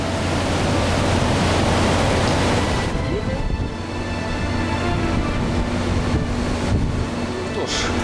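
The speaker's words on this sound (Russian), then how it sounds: "нас посетил тайфун Иоланда" Typhoon Haiyan (Yolanda) winds and surf in the Philippines in 2013 roar as a dense, continuous rush of wind and crashing waves, loud and unbroken, with wind buffeting the microphone.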